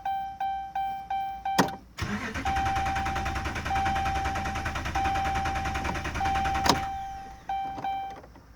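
A 2011 Dodge Ram Hemi pickup with no fuel cranks without firing: a rhythmic, chugging starter churn runs for several seconds while repeating dashboard chime tones sound before and after.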